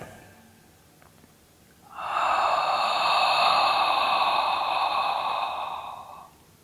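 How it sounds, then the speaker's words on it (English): A single long, steady open-mouth inhale in Ujjayi pranayama breathing, a hushed, breathy rush of air lasting about four seconds after a quiet pause. "inhale in the same fashion while making a sound, keeping your mouth open and inhaling"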